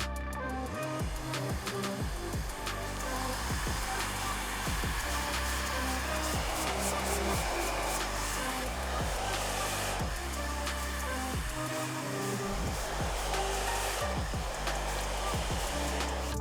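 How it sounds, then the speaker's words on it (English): A hair dryer blows steadily for the whole stretch, used to blow-dry hair diagonally during a barbershop curtains haircut with a mid skin drop fade, a constant close airy roar with small shifts as the nozzle moves. "So when you're trying to achieve flow, I blow dry in a diagonal"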